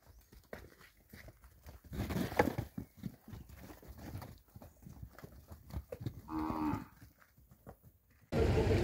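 Cattle lowing at a cattle fair in São Benedito, Ceará, amid a busy livestock crowd, with a clear moo standing out near the middle and shuffling, clopping and background bustle throughout, then a sudden loud noise at the end.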